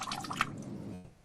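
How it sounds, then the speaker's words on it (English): Lemonade poured into a glass, a short burst of trickling and splashing liquid that tapers off, quiet and close. "we're pouring what looks like a glass of lemonade."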